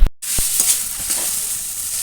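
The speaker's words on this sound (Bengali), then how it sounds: "এইভাবে আরও এক মিনিট মতো একটু ভেজে নিলে একদম রেডি" Leafy greens (drumstick and water spinach leaves) fry in a hot pan with a steady bright sizzle, after a short sharp clatter at the start.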